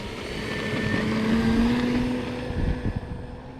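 An E-flite Carbon Z T-28 radio-controlled airplane taking off downwind with takeoff flaps, its electric motor whining and rising in pitch over a rough rumble of wheels and wind, loud and close, with no voices.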